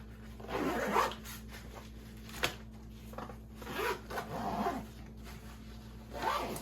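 The zipper on a pouch of a 5.11 Rush 72 bag is worked in several short, quiet, close pulls with small rustles between strokes.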